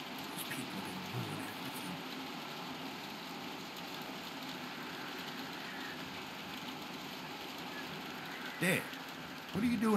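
Rain falling outside a barn in the video game The Walking Dead, a steady soft hiss of rainfall throughout, with a brief louder rustle near the end.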